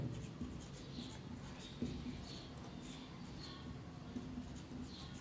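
Soft, rhythmic marker or chalk strokes on a board during a chemistry lesson on f-block elements, faint and steady, repeating scratchy taps with low room hum beneath.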